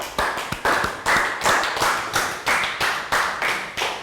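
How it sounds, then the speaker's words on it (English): Small classroom group clapping for a pupil, a rhythmic series of about eleven evenly spaced, loud, close claps without talk. "Round of applause for Lakgao"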